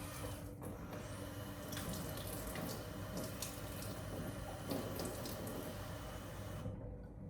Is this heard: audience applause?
no